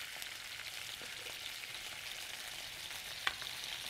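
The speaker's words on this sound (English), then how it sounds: "we've just got a couple of chicken breasts that I diced up and we're gonna just brown them up a little bit" Diced chicken breast browns in a pan with a steady, soft, even sizzle and crackle, no talking, and one small sharp pop near the end.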